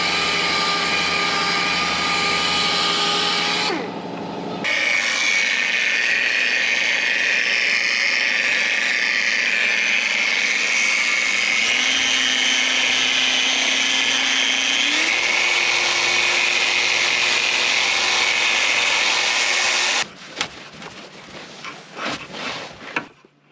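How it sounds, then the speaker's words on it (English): A power buffer polishing a vintage Porsche 911 Targa part after 3000-grit wet sanding, droning loudly and steadily with slight pitch shifts, then stopping into a few clattering handling noises. "First we'll 3000 grit, wet sand it, and then we'll buff it and polish it just like we would a body panel."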